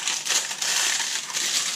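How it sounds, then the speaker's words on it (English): Baking paper crinkles as it is peeled off a hot homemade sourdough loaf, giving a close, dry, continuous crackling rustle with small surges. "I'll remove the paper and show you."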